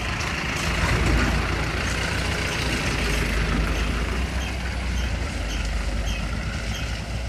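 A vehicle passes on a narrow road in Ruzai Waddo, Duler, Mapusa, giving a loud, steady engine and tyre rumble that swells slightly then eases, with no talk over it.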